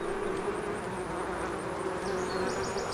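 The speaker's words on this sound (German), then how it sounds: "Der Smoker beruhigt die Bienen." Honeybees swarm around an open beehive while a beekeeper works it with a smoker, making a dense, continuous buzz that fills the air close by, with a few higher chirps near the end.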